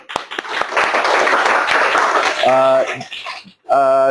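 A class of students claps hands in a classroom, a short burst of clapping that gives way to a voice and then a sustained tonal sound.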